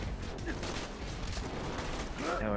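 Rapid, dense gunfire from Borderlands 2 rattles continuously and loudly for a couple of seconds, with a faint voice just at the end.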